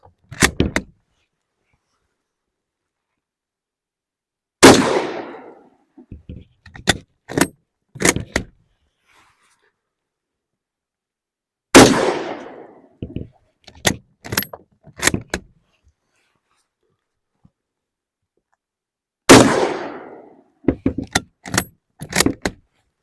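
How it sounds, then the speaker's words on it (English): Yugoslavian M24/47 Mauser bolt-action rifle firing Turkish surplus rounds outdoors, three loud sharp shots spaced several seconds apart, each followed by clicking and clacking of the bolt being worked. "we're just going to put a few rounds downrange and see how it does"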